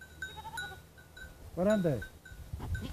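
A goat gives one loud, wavering bleat close by, set against a quiet outdoor background with a person speaking briefly before it.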